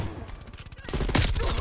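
MP5 gunfire in Call of Duty rattles out as a quick, loud automatic burst that swells toward the end, with game sounds mixed in behind it.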